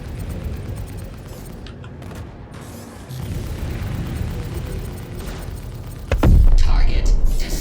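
A ship blown apart in Star Citizen space combat, a heavy booming blast rising abruptly to a loud roaring rumble after a stretch of droning engine noise.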